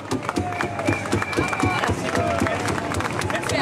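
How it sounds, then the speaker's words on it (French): A studio audience at a French television game show applauds a winning contestant, a dense wash of clapping and crowd noise with some babble running steadily throughout. "On l'applaudit, on le remercie, bravo."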